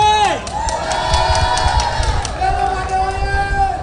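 Crowd at a Guinean presidential campaign rally in Mamou cheers and applauds loudly, a roaring mass of shouts and clapping with a sustained tone rising through it.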